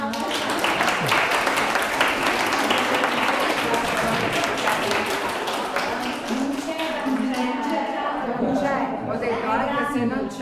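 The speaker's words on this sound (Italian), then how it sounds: "le dediamo un applauso" Audience at a local event applauding a young basketball player called up to the national team, steady dense clapping that thins toward the end as chatter and voices emerge underneath.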